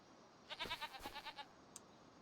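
A goat bleats in Farming Simulator 25, giving one quivering, wavering call of several rapid pulses, moderately close but fairly quiet, followed by a brief faint click.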